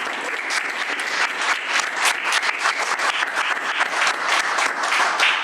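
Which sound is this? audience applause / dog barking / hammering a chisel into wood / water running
audience applause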